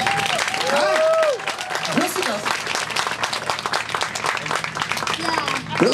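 A children's sing-along audience clapping, a loose scatter of claps mixed with lively chatter, squeals and voices throughout.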